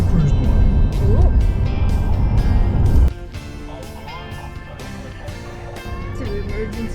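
Car cruising in fifth gear down a very steep descent into Adelaide, South Australia, with a loud steady road and engine roar that drops abruptly to a quieter drone partway through; no one speaks.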